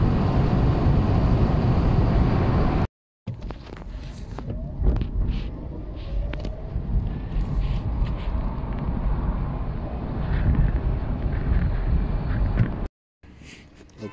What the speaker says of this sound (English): Wind speed, wind noise is again quite high.